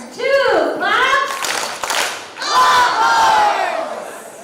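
Fifth-grade students at a school parent night chant their Longhorns team name loudly in unison, followed by two sharp group claps, with crowd voices and a second rising chant.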